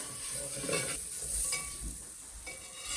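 Ginger and garlic frying in a pan with soft sizzling and a spoon stirring and scraping, plus faint clinks of cookware, a quiet home-kitchen sound while preparing toor dal.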